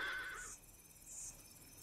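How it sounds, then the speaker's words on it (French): A horse gives a brief, faint whinny at the very start, with a high tonal cry that fades within half a second and leaves quiet background hiss. "L'hennissement est un cri particulier au cheval."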